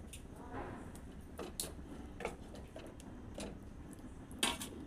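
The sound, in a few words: lid placed on pot of fish in mustard sauce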